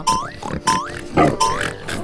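Pigs grunt and squeal close up in four quick, loud bursts with short gaps between them.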